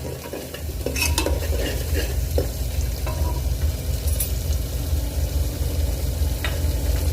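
Spice paste roasts in a pan beside peas and potatoes, a loud steady low rumble of frying with occasional clinks and scrapes of a spoon against the metal.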